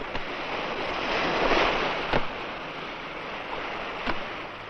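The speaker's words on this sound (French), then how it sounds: "il y a trop de vent" Strong wind buffets an outdoor microphone with a steady broadband roar that swells and eases over a few seconds, loud and close, with no one speaking.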